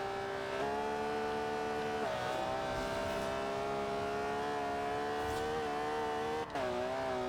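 An Alfa Stradale in the Forza racing game accelerating hard, a steady, loud engine note climbing through the revs with a brief dip at a gear change, and no voices.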